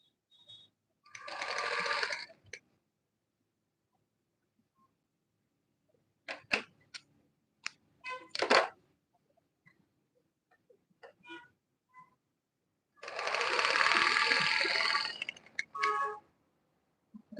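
A sewing machine stitches a smocked sleeve in two short runs of rapid whirring, several seconds apart, with scattered clicks and handling taps of fabric in between, close and fairly quiet.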